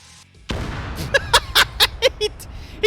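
An explosion in the military video game Operation Flashpoint starts as a sudden heavy boom, then a series of sharp, rhythmic bursts ring out in quick succession over a low rumble.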